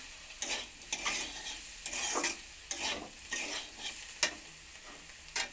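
Yardlong beans, pumpkin and potatoes hiss and sizzle in a pan without water while a spatula scrapes and stirs at an uneven rhythm; nobody speaks.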